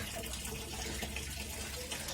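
Water pours and splashes in a steady, faint broadband wash that runs continuously without pause, heard alone with no voices.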